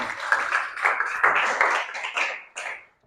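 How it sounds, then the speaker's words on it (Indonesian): Classroom applause in a crafts lesson on hard materials, with a room of students clapping in a steady burst of about three seconds that fades out at the end. "Mantap, tepuk tangan."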